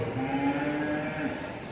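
An Angus steer at a livestock show gives a steady, drawn-out moo lasting under two seconds, close and fairly loud against a low background murmur.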